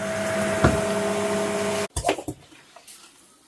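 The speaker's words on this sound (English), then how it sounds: "First a quick hoover down." A hoover vacuums down a wall ahead of rendering work on a neglected French cottage, running as a loud steady drone that cuts off abruptly partway through, leaving a few scattered knocks and scrapes.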